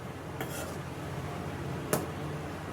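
Pasta being stirred in a cooking pot with a utensil: two sharp metallic clinks against the pot, spaced over a second apart, over a quiet kitchen background.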